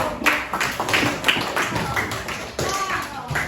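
Classroom students clapping after group presentations in a lesson on artificial intelligence limits, with scattered, uneven claps and taps mixed with voices and chatter.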